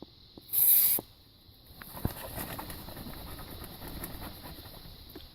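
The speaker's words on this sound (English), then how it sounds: "I'm going to spray the insides." Foaming electrical contact cleaner sprayed from an aerosol can into an interior electrical connector of a 2005 Toyota Prius, a single loud hiss lasting about half a second, followed by quieter handling noises and faint clicks.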